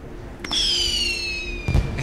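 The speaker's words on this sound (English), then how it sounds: "Let's go ahead and use some more fireworks." A firework in the Neverwinter fantasy role-playing game launches with a rising whistle that streaks upward, then ends in a low booming burst, loud and close with no talk.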